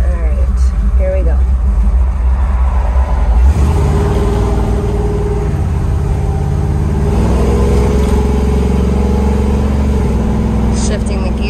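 A 1957 Chevrolet 3100 pickup truck's engine hums loudly from inside the cab while driving, its pitch climbing and dropping as gears change, with road noise and wind steady underneath.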